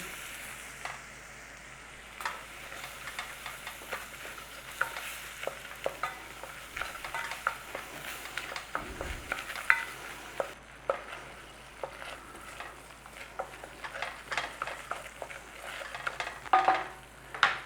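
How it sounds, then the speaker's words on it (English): Flour cooks in butter in a pan for a traditional Irish bake, stirred continuously with a close, busy scraping and crackling sizzle that rises and falls in quick strokes. "In there with some flour. About the same as the butter. Give the flour a cooking."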